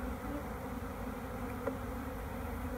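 Honey bees hum steadily around an open hive box in a garden shed apiary, a continuous close buzzing drone with one brief click partway through.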